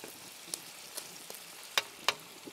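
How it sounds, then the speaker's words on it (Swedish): Chicken thigh fillets fry quietly in a pan for paella, a low steady sizzle broken by a few brief crackles and spits. "Och lårfiléerna så här. Först steker de lite grann så här."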